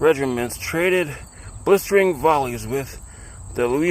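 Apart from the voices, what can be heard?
No distinct noise like a dog, phone or traffic.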